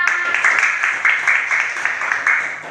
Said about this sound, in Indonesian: Kita beri tepuk tangan untuk teman-teman kita